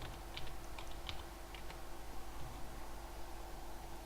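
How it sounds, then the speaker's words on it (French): A handful of keyboard keystrokes tapped on a computer keyboard in the first couple of seconds, soft and clicky over a steady low electrical hum, then fading to just the background hum. "Je vais taper Vidéopad."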